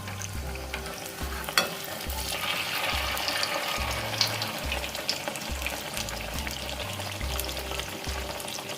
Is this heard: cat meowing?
no